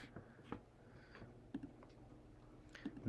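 Quiet typing on a computer keyboard, a few soft scattered key clicks at an irregular rhythm with pauses between them, close by and faint.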